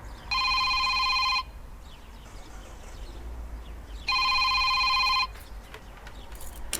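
A phone rings in two bright electronic bursts about a second long, separated by a pause, over quiet background hiss.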